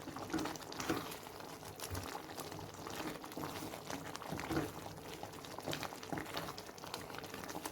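A paste of ground cashew and coconut fries in a pan for a Guntur-style prawn curry, making a faint, continuous soft bubbling and spluttering with a few small pops and no talk.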